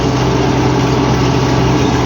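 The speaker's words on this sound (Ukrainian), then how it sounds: "Без турбіни, зобізвичайний трактор дуже гарно собі набирає." An MTZ-82.1 tractor without a turbo, pulling a disc harrow while stubble-breaking, runs its engine at high revs in a loud, steady, close drone, with no voices.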